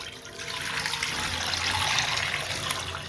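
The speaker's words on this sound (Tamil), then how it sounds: "இப்போ ஒரு கடாயில் கொஞ்சமாக தண்ணி வந்து சேர்த்துக்கலாம்" Water pours steadily into a kadai while cooking cauliflower 65, a continuous broadband splashing rush lasting several seconds, fairly close and alone with no talk.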